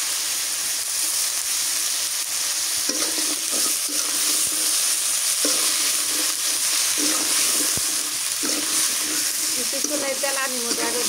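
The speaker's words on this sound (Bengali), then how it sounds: "কিছুক্ষণ এই তেলানির মধ্যে আগে ভেজে নিই" Small potatoes frying in oil in a pan, a constant hissing sizzle with occasional knocks and scrapes from stirring, close up and steady throughout.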